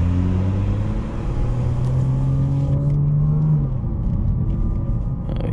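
A tuned BMW 440i engine pulls hard and loud from inside the car, its rising drone climbing in pitch before a downshift drops the note into a deeper rumble.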